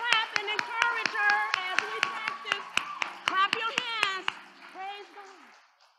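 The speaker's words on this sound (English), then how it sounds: "Everybody clap and encourage her." A church congregation claps in a steady, even rhythm during a Resurrection Day worship service, the sharp claps sounding under a voice that talks over them before the clapping fades.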